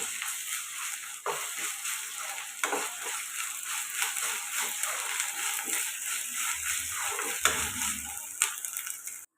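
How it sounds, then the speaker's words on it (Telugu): Ginger garlic paste frying with onions in a pan, a steady close sizzle with occasional scrapes and stirring clatter, no voices, part of a home-style chicken fry. "ఇప్పుడు ఇది పచ్చివాసన పోయేదాకా ఫ్రై చేసుకున్నాం"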